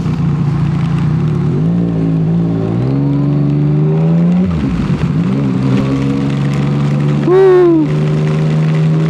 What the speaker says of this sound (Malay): Lama tak bawa motor dalam hujan lebat macam ni.